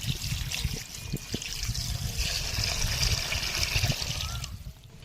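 Water runs from a tap while raw chicken meat is washed in a Bengali home kitchen at a picnic, a steady trickling splash with light knocks and handling noises, close and continuous.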